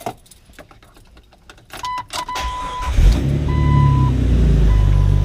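A Jeep engine turns over and fires after some faint clicks and a key jingle, then settles into a loud, throaty, steady idle close by.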